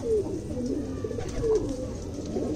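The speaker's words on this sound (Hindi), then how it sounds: "ये पुरानी नस्लों में का कबूतर है भाई" Soft, low cooing from an old-breed pigeon repeats in a few gurgling phrases, close by, with faint background noise and no speech.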